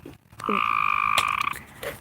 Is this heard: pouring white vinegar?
no